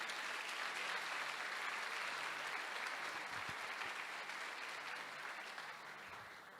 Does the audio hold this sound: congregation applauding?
yes